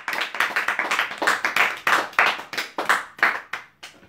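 A church congregation claps together in acclaim at a worship service, a run of roughly a dozen bright, rhythmic handclap bursts close by with no talk.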